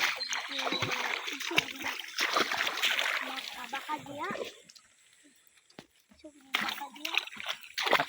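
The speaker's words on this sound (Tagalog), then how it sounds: "Ato sa hugasan niya itong balde." A bucket is rinsed with water outdoors beside an okra garden, with splashing and sloshing that pauses briefly and then resumes, while people talk throughout.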